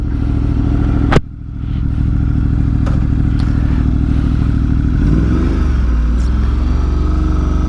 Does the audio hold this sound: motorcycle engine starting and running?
yes